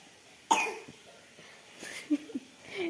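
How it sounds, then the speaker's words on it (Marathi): A single sharp cough near the start, followed by softer breathy throat sounds and faint murmuring in a quiet indoor room. "खोकला लागली आहे"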